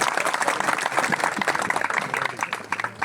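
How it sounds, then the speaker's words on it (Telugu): A church congregation at a one-day Bible seminar claps for the servants, a short burst of brisk, dense applause from a crowd of people. "మరి సేవకులకు చప్పట్లతో అభినందిద్దాం"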